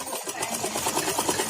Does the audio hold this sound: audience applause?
no